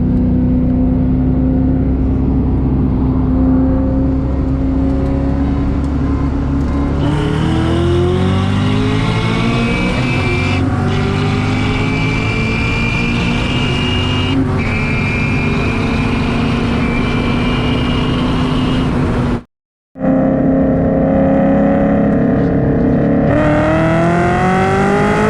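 A supercharged Ford Mustang on small 285 tires races a Dodge Viper from a rolling start in second gear, its engine loud and close with a steady drone and supercharger whine rising through gear changes, cut by a brief silence.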